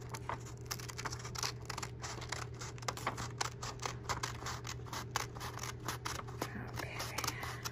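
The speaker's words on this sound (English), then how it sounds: "and then I'm gonna cut it out" Scissors snip steadily around the outline of a paper bookmark, a run of close, crisp cuts and rustling paper under a constant low electrical hum.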